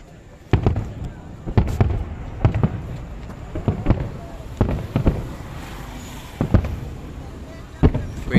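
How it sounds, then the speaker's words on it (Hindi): Fireworks burst over the decorated riverbank at Ram ki Paidi during the Ayodhya Deepotsav Diwali celebration in 2022, with about a dozen sharp cracks and booms popping at irregular intervals, moderately distant, amid murmuring voices. "ये पीछे पटाखे देख सकते हैं"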